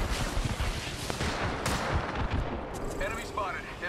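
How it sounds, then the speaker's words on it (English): Gunfire in the Apex Legends video game: dense, overlapping bursts of shots and heavy blasts, loud and close, then fading into scattered reports. "The enemies are shooting at me."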